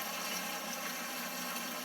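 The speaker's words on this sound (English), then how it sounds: "I'm going to pour water in this bucket." Water pouring steadily into a bucket during aquarium canister filter cleaning, a continuous broadband splashing rush, close and even throughout, with no voices.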